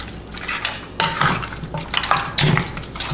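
Meat being stirred with Haitian spice in a pot for a vegetable stew: several clattering scrapes and knocks of a utensil against the pot, close and fairly loud, in irregular bursts.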